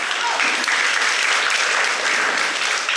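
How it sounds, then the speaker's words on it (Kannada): An audience claps loudly and steadily at a women's association's first anniversary function in Subhash Nagar, Munnur, a dense, even burst of applause lasting a few seconds. "ಗಟ್ಟಿಯಾಗಿ ಕೈ ಚಪ್ಪಾಳೆ ತಟ್ಟೋಣ"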